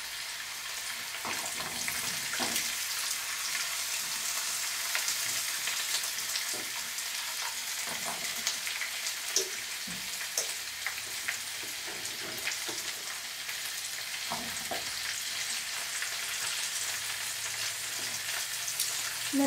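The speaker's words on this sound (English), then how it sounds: "the garlic is starting to brown, so I'm going to gently start to put some of these asparagus stalks in." Asparagus stalks sizzle in a pan of oil with browning garlic, a steady frying hiss broken by occasional soft clinks and stirring taps.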